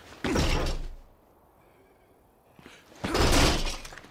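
Two heavy thuds against a locked door in State of Decay 2, about two seconds apart: broad, booming impacts with a splintering, crashing edge, close and loud. A quiet gap separates them, and no one talks.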